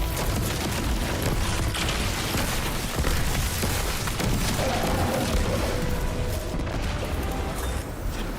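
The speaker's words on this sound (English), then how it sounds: "Battlefield around, explosions, chaos, live." Battlefield chaos in the video game Destiny 2 Lightfall: dense, continuous rumbling booms and mechanical bursts of explosions, loud and sustained throughout without clear breaks.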